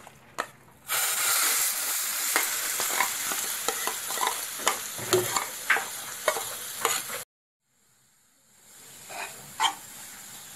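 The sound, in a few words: stirring and frying masala mixture in oil in pan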